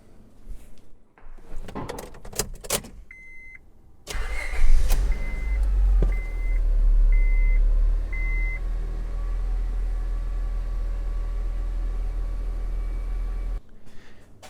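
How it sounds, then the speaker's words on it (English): A 2004 Honda Civic engine cranks, catches and settles into a steady low idle. Several beeps come just before it, and the hum continues alone until it cuts off near the end. "So we started the car up, everything's great."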